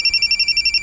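Ian's cellphone rings with a rapid, pulsing high electronic trill, evenly spaced bursts repeating about ten times in under a second, close and clear with no voices over it.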